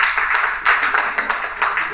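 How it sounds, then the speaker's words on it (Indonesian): An audience claps for Papri at a religious lecture, a brief run of rapid, moderately loud handclaps from a small group. "Oh, tepuk tangan untuk Papri."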